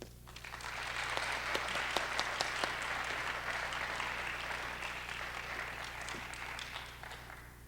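An audience applauds as Elizabeth Smythe Brinton is welcomed to the stage at a Canadian-American friendship event: steady, full-room clapping that swells quickly, holds for several seconds, then tapers slightly, over a faint low hum.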